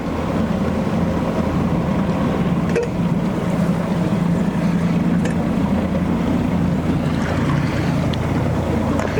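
A small boat motor on a Beavertail Mosquito boat drones steadily on the water, with wind buffeting the microphone and water rushing past, loud and continuous.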